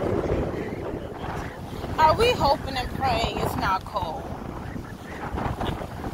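Strong gusts buffet the microphone at Taboga Beach in Panama, a constant rough roar with waves behind it, while people talk over the wind.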